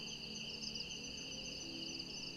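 A steady, high-pitched insect drone of cicadas buzzes continuously, soft and distant, with no voices.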